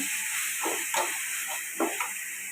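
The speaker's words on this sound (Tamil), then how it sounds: "நல்லா வதங்கட்டும்." Curry leaves and coriander sauté in a pan for rava kitchadi, a steady close sizzle and hiss with a few soft scraping stirs on top.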